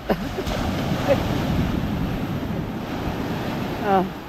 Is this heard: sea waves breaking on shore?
yes